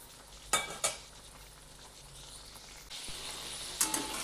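French fries frying quietly in oil over a very low gas flame, a soft steady sizzle with a few sharp clinks and scrapes as they are turned over in the pan.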